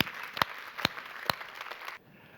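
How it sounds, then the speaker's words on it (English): Applause from a conference audience at a jobs and entrepreneurship panel session, a soft, moderately distant patter of clapping with a few sharper claps, stopping abruptly after about two seconds. "so a big round of applause"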